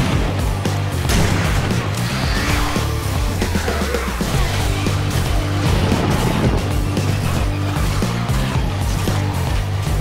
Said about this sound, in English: Want to bust out a few shots with this bad boy.